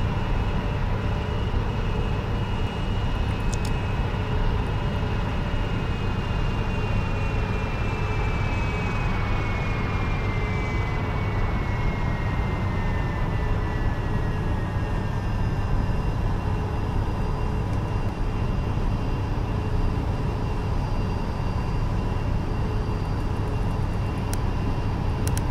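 Flightfactor Boeing 777 airliner engines in X-Plane 10 make a continuous broadband roar with a steady whine above it. A faint tone drifts downward partway through as the airliner slows on approach.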